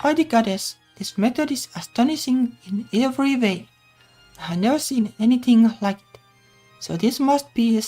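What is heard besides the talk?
No distinct noise like a dog, phone or traffic.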